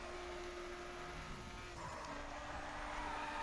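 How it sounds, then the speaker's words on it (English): A car drifts on tarmac in the racing video game The Crew, with a steady loud engine drone and a high tire-squeal tone, both shifting in pitch partway through as the car slides around a corner. "That's all I had to do to get that drift on tarmac."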